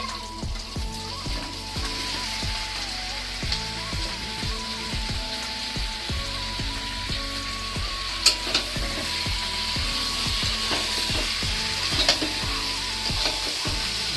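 Chicken pieces frying in spiced masala in a pan, a constant crackling sizzle with rapid rhythmic scraping strokes of a spatula running throughout, close and steady, plus a faint background hum and no speech.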